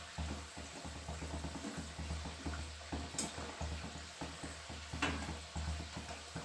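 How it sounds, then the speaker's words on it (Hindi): A potato and semolina kachori fries in hot oil in a pan, giving a soft, steady sizzle with gentle bubbling and faint pulsing, fairly quiet and close, with no voices. "दोनों साइड से अलग पलट कर सुनहरा होने तक पका लेते हैं।"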